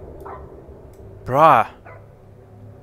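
A single dog bark rings out in a horror video game, one short harmonic yelp standing out clearly over a quiet, murky background, with a brief spoken word from a player nearby.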